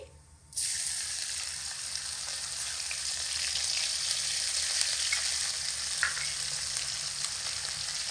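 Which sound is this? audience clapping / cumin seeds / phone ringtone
cumin seeds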